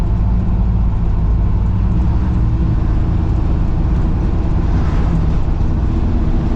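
Kaiser Jeep M715 military truck engine running, a loud, constant low rumbling drone heard from inside the cab, steady throughout with no talking.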